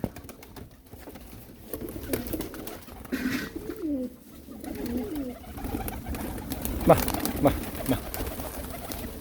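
Uzbek cho'chqir pigeons coo in warbling bursts close by, with background rustle and a brief spoken word among the birds.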